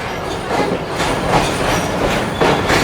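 The Karakoram Express train running past the standing Allama Iqbal Express, a loud continuous rumble of wheels on rails with rhythmic clickety-clack bursts.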